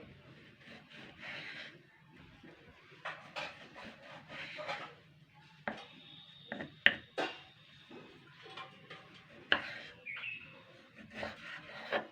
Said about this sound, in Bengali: আমি এইভাবে কেটে নেবো কুচি কুচি করে